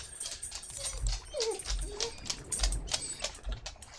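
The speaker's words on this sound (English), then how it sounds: "Puppy. Why are you making silly huffy noises?" A puppy makes soft huffy whimpers and little yips, several short breathy calls close by, with a voice speaking softly among them.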